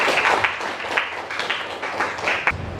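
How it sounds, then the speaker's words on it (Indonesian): Schoolchildren clap together in a classroom, a short burst of uneven, close clapping with a few sharper accents and possible light voices underneath. "Jadi tepuk tangan dong."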